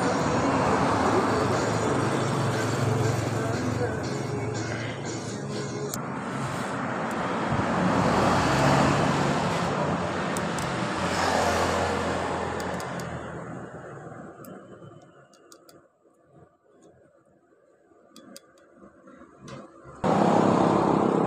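Yamaha Mio Soul scooter engine running with a rough noise, a loud steady drone that fades out toward the end, goes quiet for a few seconds, then cuts back in abruptly.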